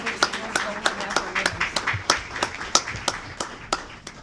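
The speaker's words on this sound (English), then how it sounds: "Another round of applause, Marisol Evans and Linda Hart, Green Bay Area Public Schools Golden Apple" At a Green Bay Area Public Schools board of education meeting, a small group claps for Golden Apple award winners, a sparse, distinct series of individual hand claps with voices talking faintly alongside.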